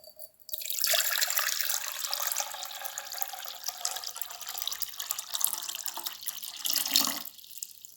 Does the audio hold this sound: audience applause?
no